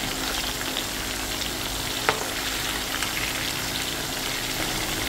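Cauliflower pieces fry in oil, a dense, even sizzle that holds steady and close throughout, with a single brief clink partway through and no voices.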